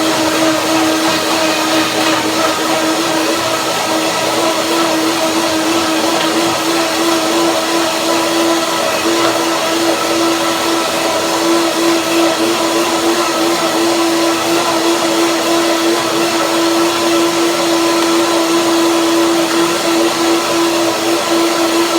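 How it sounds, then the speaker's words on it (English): A countertop blender whirs steadily at high speed while it purées a walnut dressing made with a little water. The loud motor drone holds at a constant pitch for over twenty seconds, with no talking. "Blend it."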